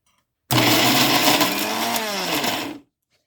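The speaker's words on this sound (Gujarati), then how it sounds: "હવે એને આપણે મિક્સરમાં પીસી લઈશું." Mixer grinder blending steamed jocotes, a loud close whirring motor that starts abruptly, runs steadily for about two seconds with a slight shift in pitch as the load changes, then cuts off.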